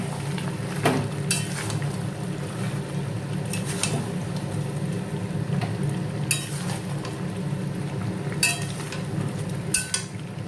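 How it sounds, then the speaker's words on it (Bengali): Steady frying hiss of mutton in a pan with intermittent scraping and clinks of a spatula, continuous and fairly close, no talking. "মাটনটা কষা হচ্ছে"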